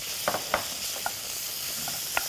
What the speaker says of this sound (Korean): 들어갈 때 약간 소리 나는 온도. 지글지글.